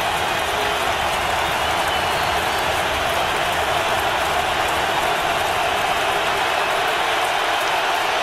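Stadium crowd roaring at an NFL football game between the Patriots and Colts, a loud, dense, sustained wall of cheering that holds evenly throughout with no distinct voices.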